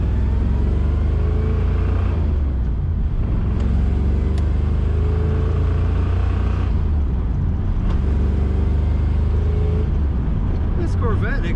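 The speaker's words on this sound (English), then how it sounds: "This Corvette accelerates as you would expect." A 1968 Chevrolet Corvette convertible engine pulls hard under acceleration, a loud, steady low rumble that swells and holds with brief shifts in tone, close by and continuous throughout.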